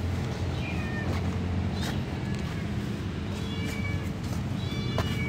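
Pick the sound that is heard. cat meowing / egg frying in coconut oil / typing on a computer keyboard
cat meowing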